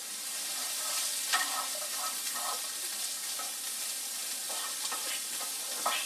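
Carrots, celery and garlic sizzle steadily in a pan as they brown, a close, continuous frying hiss with soft stirring scrapes and small pops.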